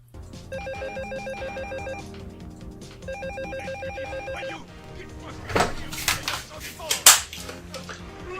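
A telephone rings indoors in a French-language drama, two clear repeated bursts of electronic trilling separated by a pause, followed by sharp clattering knocks and handling noise.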